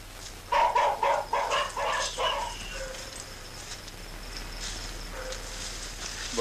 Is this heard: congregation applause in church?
no